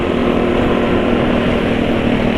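A motorcycle engine idling and running rough at low RPM, a steady close drone with a coarse, uneven buzz and no speech over it.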